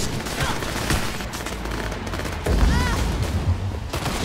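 Bursts of gunfire in the video game Cyberpunk 2077, loud shots with a heavier blast midway, played over continuous game ambience and a bit of voice.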